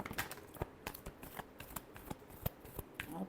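Tarot cards being shuffled by hand, a steady run of crisp riffling and slapping card sounds close up with no talking.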